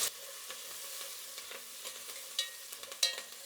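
Onions and curry leaves sizzle in a pan of hot oil while a spoon stirs them, giving a soft, steady frying hiss broken by scraping clicks, quiet and close with no voices.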